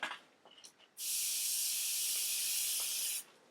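A Harder and Steenbeck Infinity CR Plus airbrush sprays in one steady, bright hiss lasting about two seconds, following a few faint clicks and handling noises, with no voices.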